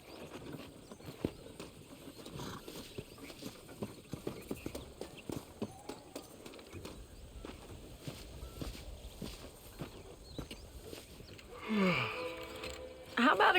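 Horse hooves clip-clopping at a walking pace in the Red Dead Redemption video game, steady and fairly quiet, with a brief louder animal-like burst near the end.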